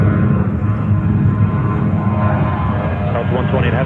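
Jet aircraft at JFK Airport, New York, a steady loud broadband engine roar that holds evenly throughout with no clear rise or fade.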